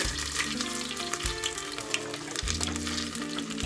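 Ginger sizzles in a pan with browned coriander, an even, close frying crackle with light stirring and no voices.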